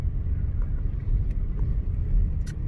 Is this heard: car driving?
yes